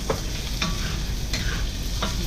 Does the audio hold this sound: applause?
no